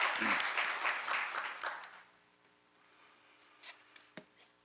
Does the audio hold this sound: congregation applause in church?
yes